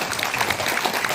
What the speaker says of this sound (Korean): 여러분들 박수 한번 주세요.